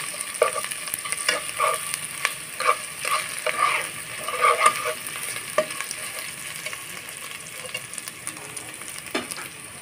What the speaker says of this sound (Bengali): বন্ধুরা, এই মশলাটা একটু আমি ভালোভাবে কষিয়ে নেব।